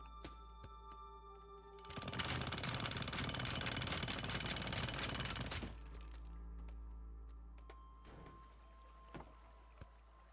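A jackhammer in the video game Teardown rattles loudly for about four seconds, a dense continuous hammering that cuts off abruptly into a lower rumble with a few faint knocks.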